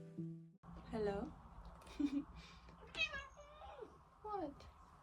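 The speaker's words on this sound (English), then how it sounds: "This is my cat." A house cat meows several times in short, rising calls spread across a few seconds, close and clear outdoors on a breezy sunny morning, with someone speaking briefly between the calls.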